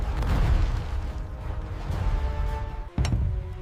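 Cannon fire in a naval battle at Thi Nai lagoon in 1801, heard as rumbling booms under a dense roar of battle noise, with a sharp close blast near the end before the din resumes.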